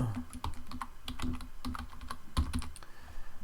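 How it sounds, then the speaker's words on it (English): Rapid, close clicking of keys on a computer keyboard, in short irregular bursts as a few words are entered. "I can type in date submitted."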